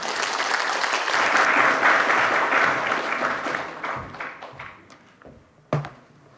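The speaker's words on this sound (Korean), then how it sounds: "박수로 맞이해 주시기 바랍니다." An audience at a North Korean unification forum applauds to welcome a minister, a full burst of clapping that thins out into a few scattered claps before fading.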